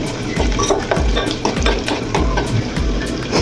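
Chopped onions frying in a pan for a village-style chicken rassa, with a steady close sizzle broken by repeated scraping stirs of a spoon against the metal.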